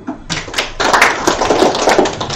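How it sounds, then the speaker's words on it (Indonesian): A small group claps in short, uneven bursts at a village innovation training session, the hand claps close and fairly loud, building from a few scattered taps into brief ragged applause. "Tepuk tangan."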